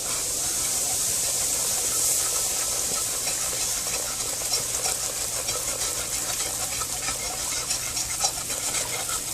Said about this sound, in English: Putting in a half cup of flour in a deep,